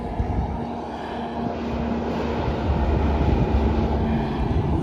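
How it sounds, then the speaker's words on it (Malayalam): A train rumbling past near the 14,115-foot summit of Pikes Peak, a loud, continuous low-frequency drone that swells steadily over several seconds with a faint steady hum, no talk over it. "ദൈവമേ, ട്രെയിൻ"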